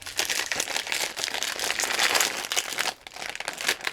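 A snack wrapper crinkled and torn open at one end, loud and close, with continuous crackling plastic rustle that dips briefly near the end before resuming, and no speech.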